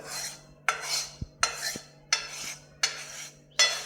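A metal spoon scrapes roasted wheat flour out of a pan onto a plate, with six sharp clinks followed by soft scraping swishes in a regular rhythm, close and fairly quiet, no voices.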